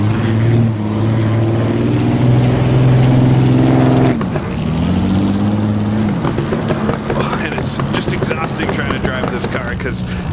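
Napier Railton engine in Assetto Corsa at Goodwood, a deep, loud, droning aero-engine roar held steady, dropping on a downshift near four seconds, then rising again with rougher, choppier revs while a voice talks over it.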